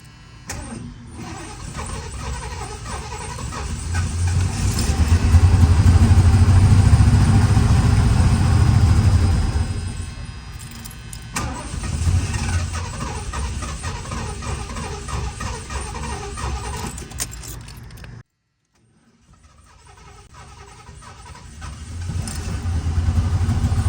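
A 1977 Lincoln car engine that has been sitting in storage cranks and starts, then runs with a loud, rough low rumble that dips and surges, cuts out briefly and comes back.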